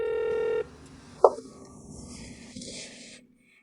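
An unanswered phone call gives one steady electronic ring tone that cuts off abruptly, followed by a sharp click and faint handling noises before quiet.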